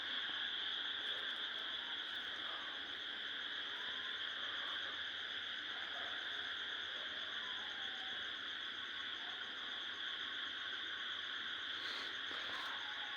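Crickets and night insects trill steadily from a field beside a Tamil village house at night, a dense continuous chorus with faint distant calls and no talking.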